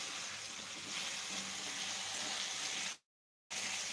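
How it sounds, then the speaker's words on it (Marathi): Potato pieces frying in hot oil over a full gas flame, a steady hiss of sizzling that cuts out completely for a brief moment before resuming. "चांगला बटाटा तेलामध्ये परतून घ्यायचा म्हणजे भाजून घ्यायचा चांगला"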